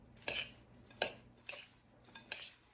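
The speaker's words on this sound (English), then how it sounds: "So I really am going to mix this for a minute or two." Granola mixture stirred in a bowl, heard as four or five separate spoon scrapes and clinks spaced about half a second apart over a quiet background, near and faint.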